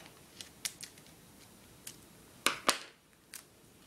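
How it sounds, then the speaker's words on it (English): Scissors snipping through a strip of tape pulled from a dispenser while making chainmail, a few sharp close clicks and snaps spread across a quiet room, the loudest pair of cuts coming near the end. "get some more tape from the dispenser, cut that in half"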